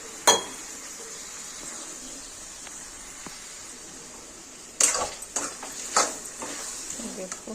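Bitter gourd sabzi frying in a pan on a home stove, with a steady sizzling hiss and occasional sharp clinks and scrapes of a spoon stirring against the metal, up close.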